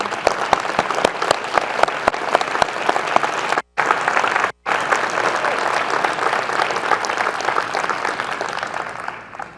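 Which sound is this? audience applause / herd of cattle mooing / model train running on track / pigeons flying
audience applause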